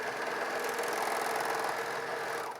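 A Bernina 700D serger stitches at speed and trims piping cord, producing a fast, even mechanical whir with a dense rapid chatter, close and steady, that slows and stops in the final moment.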